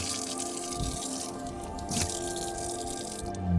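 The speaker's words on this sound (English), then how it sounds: "I can turn the sink on and wash my dishes or my hands" Water running from a sink faucet fed by rainwater tanks in an off-grid homestead, a close steady splashing stream with drips and a faint tonal hum underneath, no talking.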